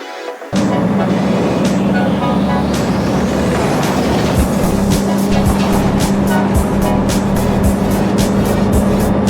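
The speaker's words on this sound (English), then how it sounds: "I'm going to take this bus out to Mukilteo, then I'm going to take it back" An Everett Transit city bus ride, with a steady loud engine drone, road rumble and repeated air-brake hisses and clicks from inside the bus.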